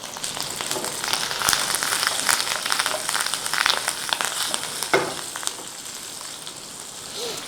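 Red chilies and curry leaves fry in hot oil in a pan for a Chettinad chicken curry, with a steady loud sizzle and crackle and a few sharper pops, and no talking.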